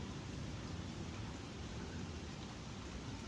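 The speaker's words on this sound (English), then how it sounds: "You hear the thunder?" Steady rain pours down outdoors, a dense unbroken hiss with a deep, low rumble of thunder rolling beneath it throughout; no voices.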